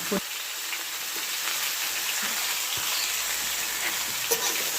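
Turmeric, cumin and coriander powder with salt being stirred through a hot frying pan, a continuous bright sizzle and hiss with occasional faint scrapes of a spatula, steady and close.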